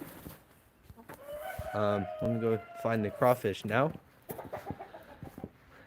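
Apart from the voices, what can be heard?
rooster crowing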